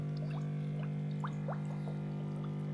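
Water trickles and splashes softly into a fish tank, light gurgling bubbles over a steady low electrical hum from aquarium equipment.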